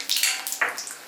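Dried red chillies frying in hot oil sizzle in short, bright crackling bursts, several quick spits in a row, close and fairly quiet.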